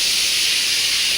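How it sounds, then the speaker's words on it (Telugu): Dal boiling for sambar, a steady, even hiss of steam and bubbling that holds unbroken and fairly loud throughout. "పప్పు ఉడుకుతుంది."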